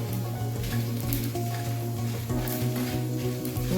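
Five dried red chillies frying in a pan over a medium stove, a soft, steady sizzle and crackle of hot oil with faint stirring, quiet and close, no voices.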